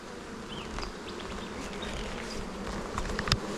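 A honeybee swarm hums steadily in May, with individual bees zipping past close by, one louder buzz near the end, and faint chirps in the background.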